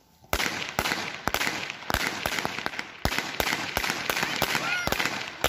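At an amateur football league match between FK Centar and FK Nova Kolonija in Vrdnik, firecrackers go off in a rapid, irregular string of sharp, loud bangs, with voices mixed in among them.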